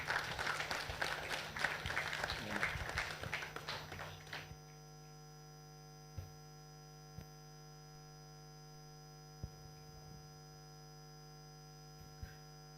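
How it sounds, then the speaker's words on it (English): An audience claps to welcome a woman to the stage at a business event, a burst of applause over the first four seconds that stops abruptly, leaving a steady electrical hum with a few faint taps. "let's give a round of applause for Onyeka as we welcome her to the stage"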